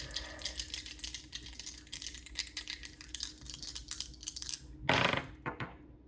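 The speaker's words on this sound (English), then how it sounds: "I'm being guided to roll these dice really quick." Small dice rattle and tumble across a hard surface in a quick flurry of light clicks, with a sharper clatter near the end as they settle.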